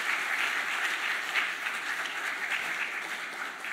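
Steady, sustained applause from a large church congregation after a baptism and confirmation service, dense clapping filling the whole stretch at an even level with no voices on top.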